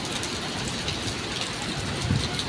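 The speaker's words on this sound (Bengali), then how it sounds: "এই দেখো বৃষ্টি" Steady heavy rain pours down on a house and its veranda, a dense, even hiss with a low rumble underneath that holds unbroken throughout.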